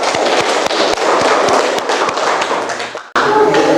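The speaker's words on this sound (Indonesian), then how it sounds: "Tepuk tangan dulu." A class of students claps together in a classroom, a loud, close burst of dense applause with a few sharper taps, ending abruptly before a voice begins.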